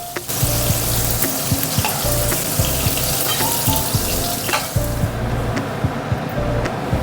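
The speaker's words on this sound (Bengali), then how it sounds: "ক্যাপসিকাম আর টমেটোটা আমার হালকা করে ভাজা হয়ে গেছে দেখুন" Capsicum and tomato fry lightly in oil in a home kitchen, a continuous close hiss and sizzle with occasional scraping clinks and a lower rumbling hum beneath it, and the sizzle fades near the end.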